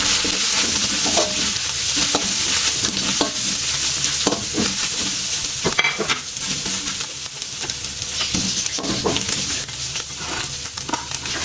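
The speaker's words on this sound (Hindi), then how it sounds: "अब हम इसके अंदर जो ये चिकन अच्छा सा फ्राई करेंगे।" Chicken frying in a pan alongside vegetables for homemade spring rolls: a loud, continuous sizzle runs throughout, broken by repeated scraping and clattering stirs of a utensil against the pan, close and busy, with no talking.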